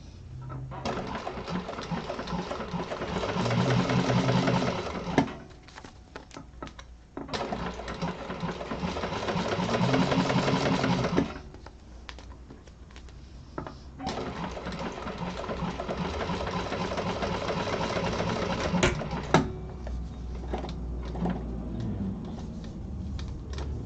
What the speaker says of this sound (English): I'm going to chain stitch down each side to save on my thread